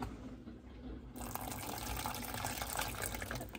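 Warm water runs from a tap into a container, a soft steady gush that swells after a second and continues evenly, quiet and close.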